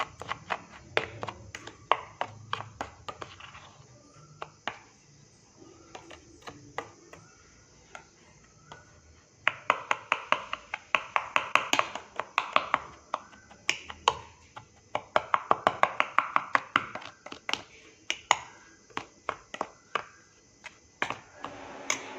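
Soft crackling and clicking as dry ingredients are tossed and mixed by hand, in bursts with short pauses, close and fairly quiet.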